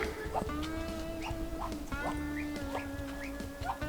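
Baby ducks in a farm brooder give a busy chorus of high, rapid peeping and chirps, close and continuous, with bits of quacking mixed in.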